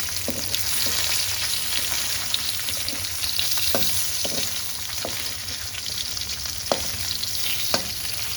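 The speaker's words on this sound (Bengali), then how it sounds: "এই পাশটা আমি ভালোভাবে ভেজে নেব।" Fish frying in hot oil in a wok, a steady close sizzle with the occasional crackle and scrape of stirring, and no talk over it.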